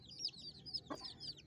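A mother hen that has just hatched chicks gives a quick run of faint clucks, with high peeping chirps from the chicks around her.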